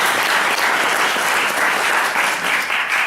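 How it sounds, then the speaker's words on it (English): An audience at a benefit event for Ferrara's Teatro Comunale applauds loudly and continuously, a dense wash of clapping with no pauses. "please give them a round of applause"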